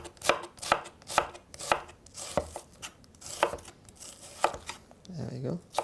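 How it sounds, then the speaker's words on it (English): A kitchen knife slices an onion into thin slices with crisp, evenly spaced cuts, about nine sharp strikes in a steady rhythm, close and fairly quiet, with a short rustle near the end. "place the onion on this side and cut it into thin slices"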